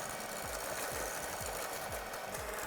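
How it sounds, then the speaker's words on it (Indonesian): An electric mixer whirs at high speed through egg batter for a gluten-free chocolate cake, a loud steady motor drone with a rhythmic thumping pulse roughly twice a second and no talk. "kalau misalnya kita akan berhenti buat mengaduk si adonan telur ini dari speed yang tinggi"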